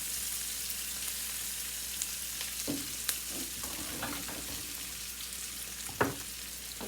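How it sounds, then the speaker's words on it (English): Food for chicken alfredo pasta sautés in a pan with a quiet, steady sizzle, broken by a few sharp scrapes and clinks of a utensil stirring, with no talk. "I just want to saute this quickly."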